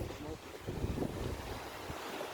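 Sea waves crash and splash against rocks at a rock-diving spot in Little Siargao, a heavy rushing wash with wind buffeting the microphone and a surging swell in the middle.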